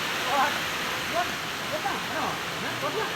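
A mountain river flows in a steady, hissing rush of water, close and constant throughout with a few soft splashes, and no talk over it.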